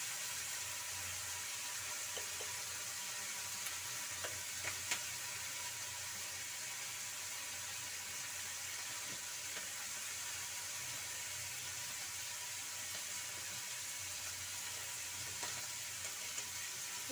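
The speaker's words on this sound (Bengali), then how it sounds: "দিয়ে আমি আরও একটু কষিয়ে নিব পেঁয়াজের কালির সাথে" Potatoes and onion paste sauté in a pan with cumin powder and turmeric, giving a soft, steady, quiet sizzle with a few faint ticks and no voices.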